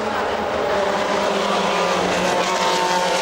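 GT race cars, an ESR battling a Ferrari 430 GT2, roar past at Monza during a 2007 International GT Open round, a loud, steady, high engine drone that fills the whole stretch.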